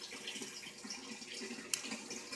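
Aquaponics water emptying out in a soft, continuous trickling wash with small splashy flickers and one sharp splat near the end.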